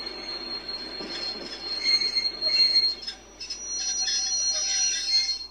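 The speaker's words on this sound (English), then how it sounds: "the train stops." A train brakes to a stop, wheels squealing in high, shrill tones that rise and fall over several seconds above a low rumble.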